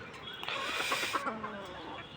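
Desi laying hens kept in cages on a small farm cluck in short repeated calls, close and moderately loud, with a little background noise.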